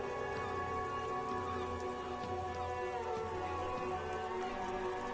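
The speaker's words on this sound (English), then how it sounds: "This rain will not let up anytime soon." Rain falling in the video game Disco Elysium, a steady hiss of drops on surfaces, moderately quiet and constant throughout with a low ambient hum beneath and no voices.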